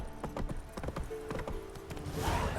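Roach the horse gallops in Witcher 3, with quick rhythmic hoofbeats clopping close and clear. A snort or whinny rises near the end over a rushing background.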